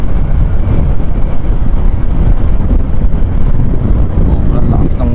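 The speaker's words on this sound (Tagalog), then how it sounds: "Sobrang lakas ng hangin dito ngayon" Strong outdoor wind in Imus, Cavite batters the microphone with a loud, continuous low roar and rumble that fills the whole stretch without letup.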